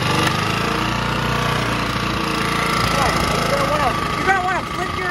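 A Predator 1800 watt portable generator engine runs steadily with a loud, close, rough mechanical drone, and a voice is briefly heard over it near the end.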